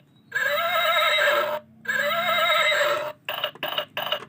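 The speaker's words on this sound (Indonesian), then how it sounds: "Ini kuda." A horse neighs twice in long, loud whinnies, each held for over a second with a wavering pitch, then gives a few shorter snorting calls. No one talks over it.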